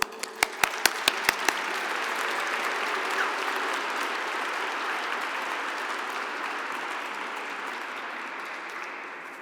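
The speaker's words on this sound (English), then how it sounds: "I'd like to give him a big round of applause, please." An audience at an evening keynote event honoring veterans breaks into applause: a few sharp, separate claps at the start quickly swell into dense, steady clapping that holds for several seconds.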